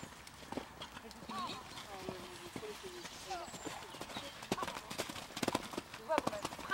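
Rhythmic hoofbeats of a horse in a show-jumping class at an equestrian club in Cherbourg, with repeated close clip-clops on the footing, and someone talking over them.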